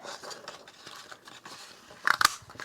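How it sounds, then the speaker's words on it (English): A paper punch cuts out circles with two quick, sharp mechanical clunks near the end, following quiet paper rustling and handling. "I am going to punch out 2 circles."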